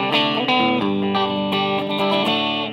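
Clean electric guitar tone from a Cort G300 Glam with both pickups on together, a few strummed and picked chords ringing out clearly and steadily, played alone without any distortion or talking.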